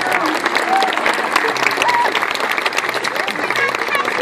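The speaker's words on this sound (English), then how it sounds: "let's hear one more great round of applause for Miss Moxie" A crowd applauds at a live tiger and panther show, a sustained, even wash of clapping from many hands, with a few brief voices and whistles over it.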